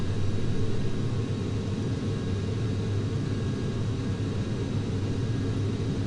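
A simulated airliner accelerating down the runway on its takeoff roll at JFK in Flight Simulator X, a steady, loud, unbroken engine rumble and roar that fills the whole stretch with no voices.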